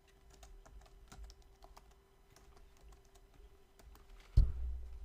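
Close, fairly quiet typing on a computer keyboard, with a quick run of soft, irregular key clicks followed by a single louder thump near the end.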